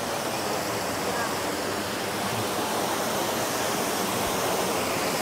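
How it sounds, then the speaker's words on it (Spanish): Cascada del Indio, a waterfall in Valle del Lunarejo, roars as a steady, dense rush of falling water, loud and close, filling the whole stretch without a break and with no voices over it. "Qué hermosa caída de agua."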